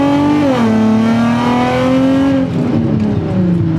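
Car engine revving hard under acceleration during a test drive, a loud, close, continuous roar whose pitch climbs, dips briefly at a gear change, then rises again.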